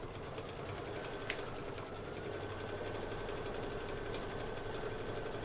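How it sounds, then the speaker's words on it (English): An embroidery machine stitches the gray ice cream cone holders of a Kimberbell two-scoops design, a steady, close mechanical whirr with fast rhythmic needle chatter running unbroken from start to finish. "I'm just going to go ahead and start stitching this. This is going to be the ice cream cone holders,"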